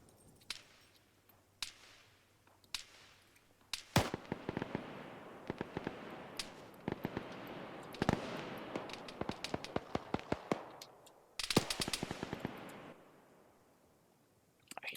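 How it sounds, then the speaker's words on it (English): Machine gun fire in the Arma 3 video game: sharp, cracking shots in irregular bursts and rapid volleys, some close and loud, others quieter, with echoing tails between bursts. "This machine gunner firing up, I think,"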